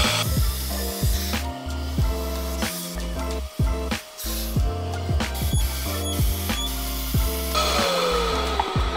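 A loud pressurized blasting hiss runs continuously as media blasting cleans a BMW 535i engine intake, broken by rapid rhythmic pulses and mechanical stutters, close up with no talking.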